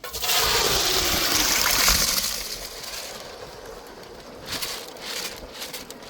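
A big pot of soya biryani for about sixty people, eight kilos, comes to a vigorous boil before soaked rice is added, giving a steady bubbling, hissing wash that eases slightly after a couple of seconds.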